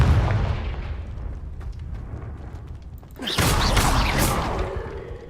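A Confringo fire-spell blast in Hogwarts Legacy lands as a sudden bright burst partway through, after a rumbling low mechanical bed, and trails off into crackling noise.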